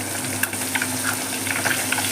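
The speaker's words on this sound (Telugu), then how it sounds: "మంచిగా ఫ్రై అవుతుంది." Apollo fish frying in a pan gives a soft, steady sizzle with scattered small pops and crackles, close by and continuous with no talk.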